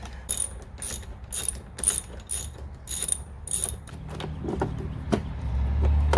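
A ratchet wrench clicks rapidly in short bursts while loosening the 10 mm battery terminal nuts on a SAAB Turbo, with metallic rattles and a low hum following near the end.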